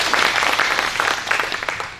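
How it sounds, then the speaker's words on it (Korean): Residents at a community briefing on a winning design for a multi-purpose community center give a round of applause for two presenters, a short burst of steady, moderately distant clapping from a modest crowd. "설명을 잘해주신 두 분께 박수 한 번만 더 쳐주시면 감사하겠습니다"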